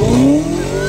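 A car engine revs loudly and close, its tone climbing steadily through one brief, sustained pull, with no distinct exhaust pops standing out.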